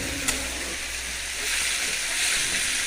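Rice frying in a pan of water-heavy food, a steady broad hiss and sizzle that holds throughout and swells slightly toward the end, fairly close, with no talk.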